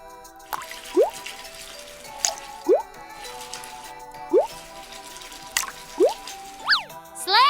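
Water in a bubble bath gives a slow run of about seven separate drips and plops, spaced roughly a second apart, close and clear over a quiet background.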